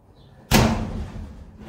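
A storage shed door swings and bangs against its door jamb with a single sharp, loud impact followed by a ringing metallic rattle that fades.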